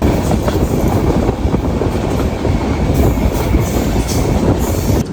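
A train on the Yesvantpur to Shivamogga line rumbles steadily along the rails near Bhadravathi, loud and close, with a continuous low roar and faint rhythmic clatter of wheels throughout.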